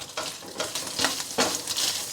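Hot Italian sausage browning in a pan, a continuous close sizzle with bursts of stirring and scraping, heard alone without speech.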